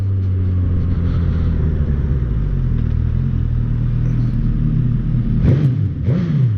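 Suzuki GSX-S1000 motorcycle engine on a test ride, a steady loud drone with low rumble throughout, then sharp rising revs near the end as the throttle is blipped, close and continuous.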